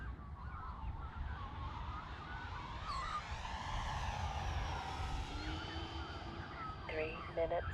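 An FMS T-28 Trojan 1.4m RC model airplane cruising overhead, its motor a distant, wavering drone that rises and falls as it passes, over steady outdoor background noise.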